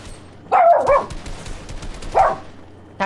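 Bobo the dog barks in two short bursts, a close, fairly loud double bark followed a moment later by another bark, with a faint background hum from a Fortnite game session.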